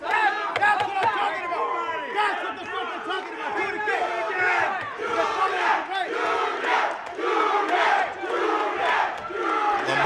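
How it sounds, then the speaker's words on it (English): A loud boxing crowd roars and yells continuously, rising in bursts of excited cheering, with shouting voices blending into a dense wall of noise. "crowd in full effect here, cheering him on."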